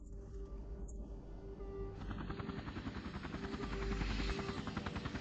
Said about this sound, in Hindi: यह बचाव हेलीकॉप्टर है जिसे कप्तान आपके लिए तैयार किया गया है।